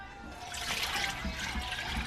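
Fresh cow's milk pours through three filters into a jar, making a short, close, continuous liquid trickle and splash.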